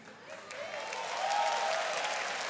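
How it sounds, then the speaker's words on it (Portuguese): Light, scattered applause from a church congregation during a Catholic Mass homily, a modest spread of claps that swells slightly and holds steady, fairly distant and without voices. "Pouca gente aplaudiu"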